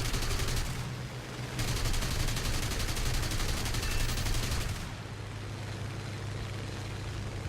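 Aircraft cannon and machine-gun fire in War Thunder German air combat, with long rattling bursts over a constant engine drone, loud and close.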